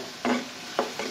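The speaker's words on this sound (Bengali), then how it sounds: "মশলাগুলোকে একটু ভালো করে কষিয়ে নিতে হবে।" Spice paste cooks in oil in a pan for a Bengali fish and pointed gourd curry, soft sizzling under two quick scraping strokes of a spoon.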